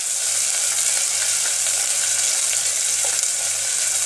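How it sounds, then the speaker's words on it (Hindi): Coarsely chopped onions hiss loudly in hot oil in a pan for Indian-style masala macaroni, making a dense, constant, close-up frying sizzle with no speech. "अब हम इसमें डालेंगे कटी हुई प्याज जो हमने काट के रखी थी"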